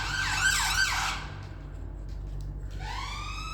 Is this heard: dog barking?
no